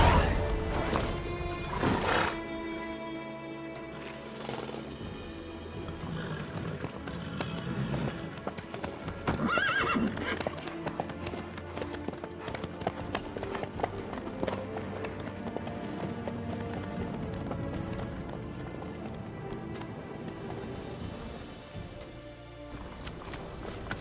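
A horse's hooves clip-clop steadily in The Witcher 3: Wild Hunt, a rhythmic trot over a layered orchestral score, with an occasional whinny and brief spoken exchanges between riders.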